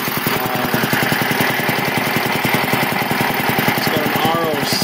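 A Quincy QR 325 air compressor on a 1975 tank runs steadily, its pump thumping in a fast, even rhythm with a constant mechanical clatter, loud and close without any talk.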